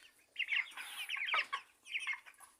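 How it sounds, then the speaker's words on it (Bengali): Young medicine-free broiler chickens, about 27 to 28 days old, cluck and chirp in short bursts that rise and fall, fairly soft and with no voices. "মেডিসিন মুক্ত মুরগি অনেক লাফালাফি করে আর অনেক দৌড়াদৌড়ি করে"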